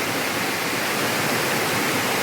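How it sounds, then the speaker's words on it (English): A waterfall on Vancouver Island pours into a pool below, a loud, continuous, even rushing hiss with no pauses. "this is the waterfall coming down from all the way up there, going down here into that pool and then continues along the creek"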